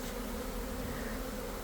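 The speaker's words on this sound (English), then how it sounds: "Bees down here, definitely doing their thing." A swarm of bees settled indoors, some clustered low on a ceiling, hums in a steady, dense buzz that holds evenly throughout with no voices.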